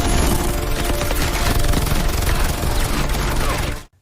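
Dense, continuous automatic gunfire from a helicopter rattles loudly for several seconds, then stops abruptly.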